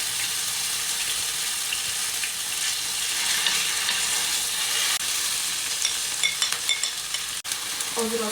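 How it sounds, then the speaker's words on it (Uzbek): Chopped garlic and chili peppers fry in hot oil, making a steady, fairly loud sizzle with scattered pops and stirring scrapes toward the end, and no speech. "ularni qovuramiz."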